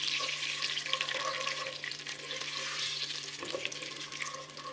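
Cumin seeds frying in a pan until light brown, with a steady, close, crackling sizzle that continues throughout and carries faint clinks underneath.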